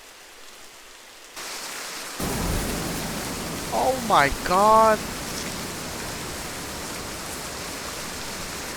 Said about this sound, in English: Why is it always raining everywhere in every game right now?